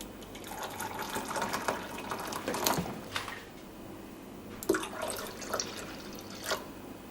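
Red strawberry or raspberry jelly mixture is poured into a container for a Christmas trifle, giving soft splashing, dribbling liquid sounds in uneven bursts, close and fairly quiet, with no talking.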